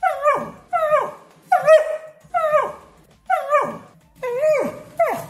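A dog barks repeatedly, about seven loud, close yelping barks in an uneven rhythm with short gaps between them, with no other voices.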